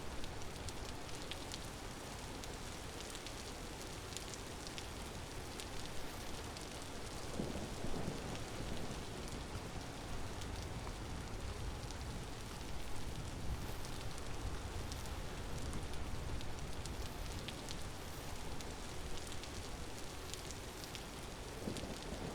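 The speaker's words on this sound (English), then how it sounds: "Like the way the wind rushes while it's raining," Steady rain with rushing wind in the video game Vintage Story forms a dense, even hiss that runs unbroken from start to finish, fairly quiet and with no talk over it.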